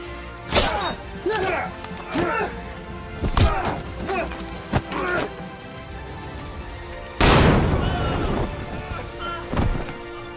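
Explosions destroying a guard fort in the action film Savage Dog, with several sharp blasts and crashes standing out from a busy, rumbling action soundtrack and a big loud burst near the end.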